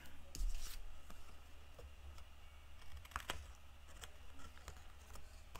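Scissors snip off excess cardboard while an album with pockets is being made, a series of sharp irregular crisp cuts and clicks, close up and fairly quiet.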